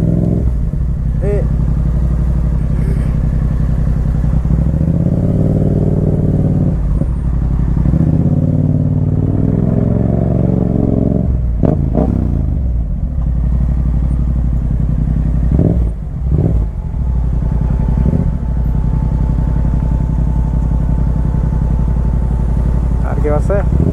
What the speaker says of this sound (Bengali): বাট বাইকে 30-40 স্পিডে চালাইতেছি